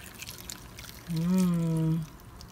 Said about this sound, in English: I'm going to pour it over the top of the apples.